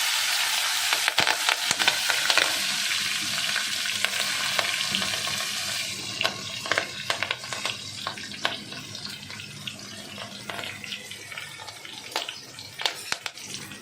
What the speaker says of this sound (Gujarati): મરચાં કટકીને છે ને આપણે સેજ જ વાસ હલાવી લઈ